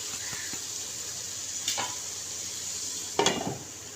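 Green chilies and masala cooking in a covered pan make a faint, steady sizzle, broken by two brief clatters of the lid or utensil against the pan.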